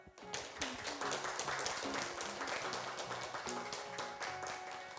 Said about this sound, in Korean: 우리 세 분 스님께 다시 한번 감사의 박수로 마지막 인사드리겠습니다.